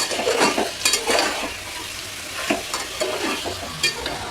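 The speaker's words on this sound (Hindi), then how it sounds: "इसे थोड़ी देर तक हम ऐसे तेल में पकने देंगे और बीच बीच में स्टर करते रहेंगे" Chicken frying in hot oil for alani chicken, a loud steady sizzle with bursts of stirring and spatula scrapes against the pan, and no one speaking.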